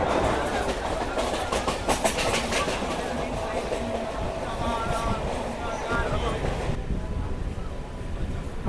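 A Kolkata local train rolls steadily along the track toward Kolkata station, a continuous rumble with clickety-clack from the wheels, close and loud, with a voice speaking over it.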